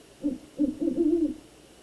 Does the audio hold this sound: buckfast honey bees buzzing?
no